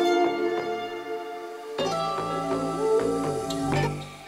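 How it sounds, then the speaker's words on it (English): A filtered electronic dance melody from the opening of a track, with sparse plucked notes that swell into a fuller layered phrase, playing alone at moderate level. "I also have the drop melody filtered out in this opening sequence"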